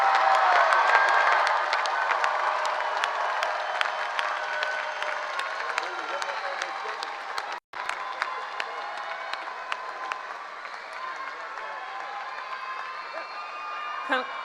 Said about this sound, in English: let's give all of our graduates a round of applause.